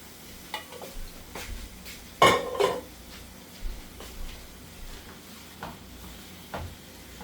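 Corn tossed into a pan of sausage for stuffed peppers, stirred with a spoon: a series of scraping, clattering strokes with one louder clank, over a faint sizzle, no talking.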